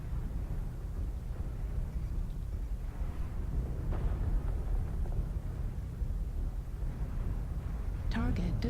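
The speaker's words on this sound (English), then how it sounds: "Fire the missiles." Long range missiles fired and exploding in the MechWarrior Online video game: a continuous low rumbling roar of launches and distant blasts, swelling slightly midway, with a brief sharper mechanical chirp near the end.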